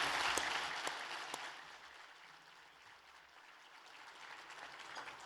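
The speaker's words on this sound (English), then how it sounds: "Everyone, please give a warm round of applause for that." Audience applause at a Charlotte, North Carolina luncheon honoring Coach Tony Dungy, steady dense clapping from a large room that holds throughout, swelling slightly near the end, with no voices over it.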